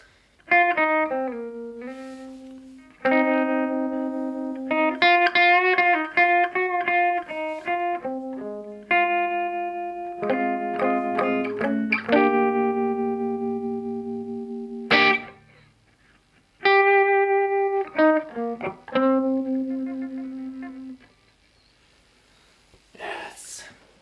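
An electric guitar plays through a Fender Tone Master Deluxe Reverb amp with its tremolo effect on: chords and single notes pulse in volume, with short pauses between phrases.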